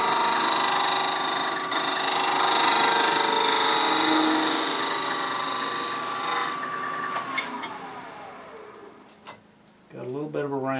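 A wood lathe spins as a gouge makes a long planing cut around the profile of a turned wooden pear, a sustained, even whir and hiss that fades out near the end before a voice comes in.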